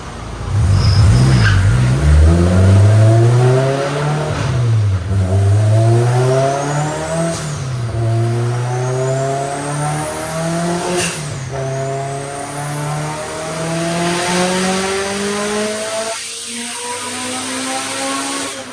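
Turbocharged Honda S2000 drift car strapped to a dyno, revving through a long rising pull with repeated engine sweeps and gear changes, loud and close with no talk.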